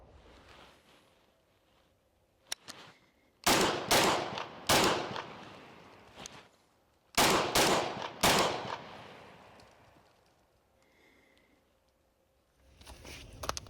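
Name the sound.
gunshots from a handgun fitted with a Kahntrol muzzle brake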